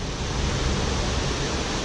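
Steady broadband rush of a small waterfall flowing close by a fishing kayak on warm-season water, loud and continuous with no breaks or voices.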